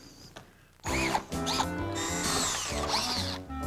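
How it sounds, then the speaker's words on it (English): A power drill whirs in bursts, revving and whining as it drives a slot-head screw, loud and close, with short pauses between spins. "Everyone is having trouble controlling the drill with this slot head screw"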